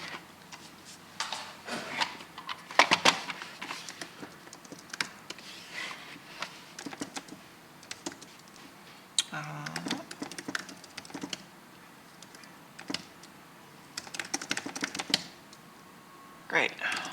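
Rapid irregular clatter of keys on a computer keyboard fills the scene in bursts and pauses, close and fairly quiet, with occasional faint speech-like sounds in between.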